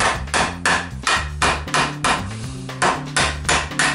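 Sharp metallic hammer blows ring out in a steady rhythm, about two per second, close and loud, each strike leaving a short ringing tone, as rivets are hammered into UAZ 469 brake pads.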